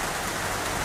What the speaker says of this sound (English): the weather warning was issued this morning for this rain